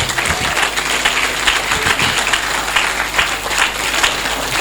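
Sustained applause fills a lecture hall during a faculty of administration week session, a dense, even wash of many hands clapping at close range without pause.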